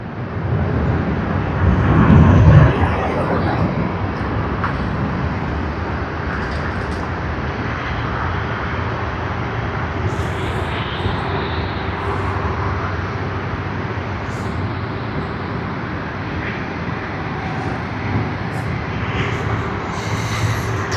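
Philippine Airlines flight PR212 airliner at Sydney Airport, a sustained jet engine roar that swells briefly early on, then settles into a steady distant rumble with faint higher whines and scattered background noises.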